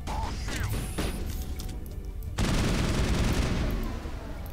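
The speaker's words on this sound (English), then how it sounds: "Pull an assault rifle." Assault rifle gunfire in the video game Mass Effect, a sustained burst of rapid shots that kicks in abruptly midway after clicking weapon mechanisms.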